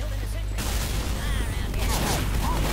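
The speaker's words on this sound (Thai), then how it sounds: "เสียงระเบิดอะไรนี่ล่ะวะ" Video game combat fills the scene with a loud explosion followed by a dense fusillade of gunfire and booms, under overlapping talk.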